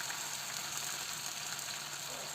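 A coarse ginger and green chili paste fries with cumin seeds in hot oil for a Himachali chana madra, giving a continuous, close crackling sizzle with no pauses.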